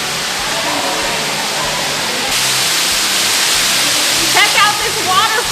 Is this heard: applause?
no